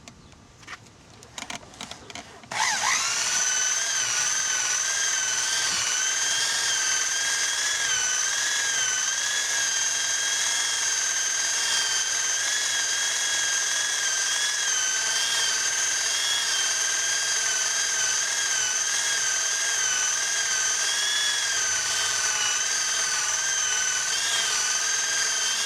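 Power buffer running steadily on boat gel coat with polishing compound, a loud continuous whine with strong tonal overtones that starts after a few seconds of rustling and holds unbroken to the end.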